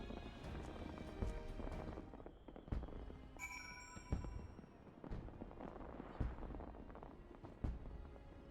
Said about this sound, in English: Why am I hearing fireworks?